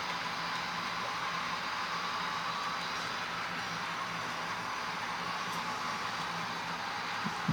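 A good-sized model railroad train with diverse loads runs along a layout and climbs an incline, giving a steady, even rolling hiss and rumble that stays close, with no talk.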